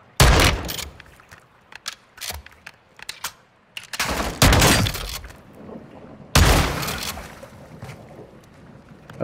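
Shotgun blasts in the Call of Duty: Modern Warfare 2 campaign: loud, sharp, close-up shots fire in uneven clusters, some in quick pairs, with crackling debris and quieter gaps between them.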